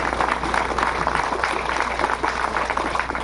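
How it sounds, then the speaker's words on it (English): An audience at a rural road unveiling ceremony with the Chief Minister claps steadily, a dense, loud round of applause that holds for the full few seconds. "Kindly give a big round of applause."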